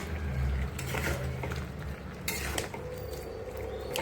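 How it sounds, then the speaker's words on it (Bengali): A metal lid lifted off a pot of simmering vegetable chorchori with potatoes, eggplant and greens stalks, giving a few close clinks and scrapes over a steady low cooking hiss. "একটু ঢাকনা তুলে দেখি কেমন হয়েছে তরকারিটা, চচ্চড়িটা।"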